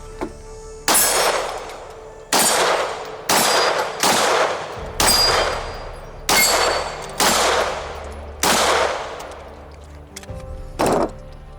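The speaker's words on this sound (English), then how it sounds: "I'm gonna unload a magazine on here because I want to see, because I hadn't really had a chance to shoot it fast." A full gun magazine being unloaded, heard as about nine loud, booming shots spaced roughly one to one and a half seconds apart, each followed by a long ringing echo, and no speech.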